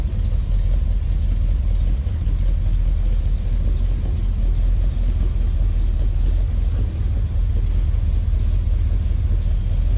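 A 1959 Chevrolet Bel Air V8 idles in neutral with a lumpy cam, a steady, close, low rumbling burble holding an even loping beat throughout.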